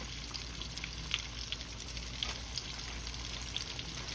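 Shrimp frying in a hot wok, cooked in batches to stay crispy, giving a steady, dense sizzle throughout with a few small pops and crackles.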